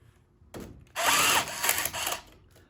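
A SurTie rebar tier tying number 4 fiberglass bar gives a short whir, then a louder burst of motor spin and twisting that lasts about a second, close up and isolated with no speech.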